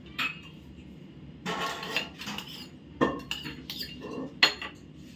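A spoon scrapes and clinks against a bowl while butter, garlic and chilli flakes are mixed, in short irregular bursts of close, fairly quiet clatter.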